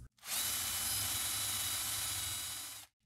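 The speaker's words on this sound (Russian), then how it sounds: "Шуруповерт в режиме сверла" A cordless drill bores a blind hole in chipboard, a loud steady whirring whine starting abruptly, holding evenly for nearly three seconds, then cutting off.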